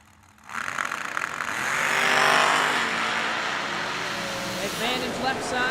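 Hot rod drag race cars launch with a sudden loud engine roar that swells and holds as they run down the strip, with an announcer talking over the noise.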